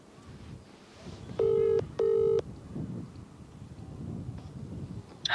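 A telephone call ringing on the line, two loud electronic ring tones in quick succession over a noisy, windy background, with no voices.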